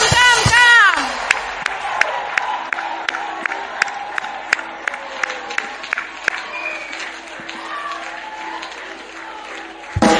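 A church congregation at a revival-style sermon applauds and cheers for Jesus Christ, sustained clapping with sharp accents and whoops throughout, voices calling out and singing over the crowd noise.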